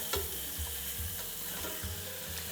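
Picanha steak frying in a hot pan as it is flipped and moved around, a steady close sizzle with a few soft scraping stirs and bumps, no talking.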